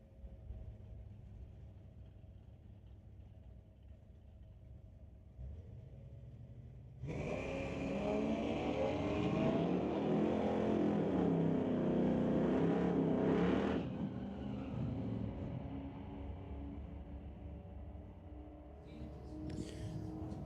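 A Pontiac drag racing car launches and roars down the strip, a loud sustained engine blast lasting several seconds before fading, set against a low background rumble of the track, no talking.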